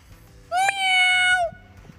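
A person imitates a cat with one long, drawn-out, longing meow, loud and close, after a brief murmur of background talk.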